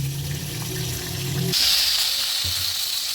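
Brinjal slices frying in hot oil in a pan, a steady loud sizzle and hiss close by, over a low hum that stops partway through.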